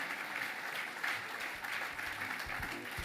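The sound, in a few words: audience applauding the municipal councillors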